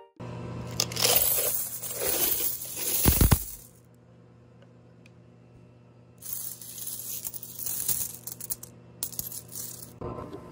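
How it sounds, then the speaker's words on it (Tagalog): Coins taken from a water vending machine are counted by hand, bursts of metallic clinking and jingling with a quiet gap in the middle before the rattling resumes. "bibilangin ko na ang ating mga barya"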